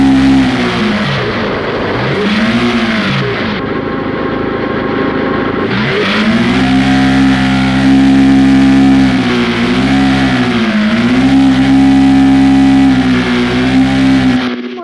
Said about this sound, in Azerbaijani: Maşının modifiyeli.